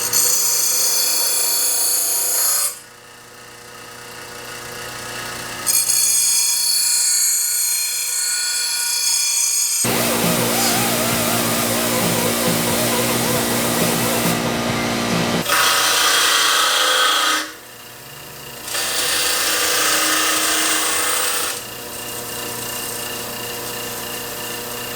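A power tool grinding and sharpening a lawn mower blade during cleanup, loud harsh rasping passes that start and stop in several bursts of a few seconds each, close by with no talk.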